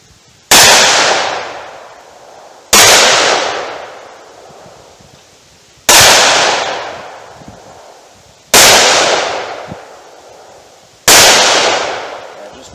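Five loud, sharp .357 Magnum gunshots from Remington HTP 125-grain rounds, fired at a steady pace about two to three seconds apart, each blast ringing out and decaying into a long echoing tail at an outdoor range.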